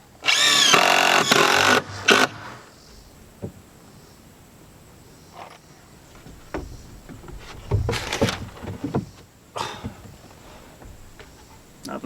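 A power saw rips through tulip poplar boards for board-and-batten wainscoting in one loud, close burst of about two seconds. Scattered knocks and handling noises follow in a quieter stretch.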